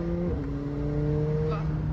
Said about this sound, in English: You hear all the air that goes into the engine.